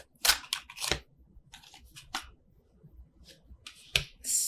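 Tarot cards are shuffled overhand by hand, giving a series of quick, soft papery slaps and riffles at an irregular rhythm, close and fairly quiet, with no talk.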